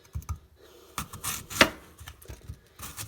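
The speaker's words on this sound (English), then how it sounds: "Now I'm going to cut it and add it to my" A sharp knife cuts an apple into pieces on a board, a few irregular crisp chops and slicing scrapes at close range with no talking.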